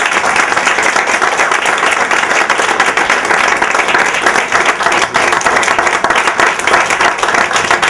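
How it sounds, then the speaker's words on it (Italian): Sustained audience applause at a memory course event, dense steady clapping from a crowd that holds at full strength for the whole stretch with no talk over it. "facciamo un bel applauso a Nicoletta"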